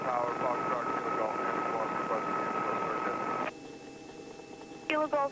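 A Robinson R44 helicopter in flight gives a steady engine and rotor drone from inside the cabin, with radio chatter and cockpit talk over it before the sound drops to a quieter hum.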